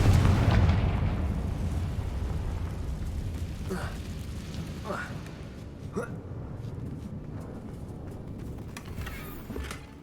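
Fiery Confringo explosion spell cast in Hogwarts Legacy: a heavy, booming blast opens loudly and rolls into a sustained rumble, followed by several sharper bursts that crackle through the fading din.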